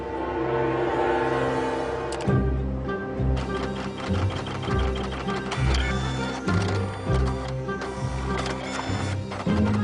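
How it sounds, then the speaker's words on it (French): An office printer runs steadily and loudly, its mechanism whirring and clattering in repeating bursts throughout with no pauses, close to the listener. "Une pièce de l'imprimante ne fonctionne plus."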